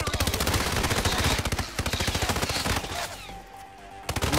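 Rapid bursts of gunfire ring out in the stealth video game Hitman, dense automatic shots close and loud for several seconds before thinning into a few scattered rounds with faint game noises behind.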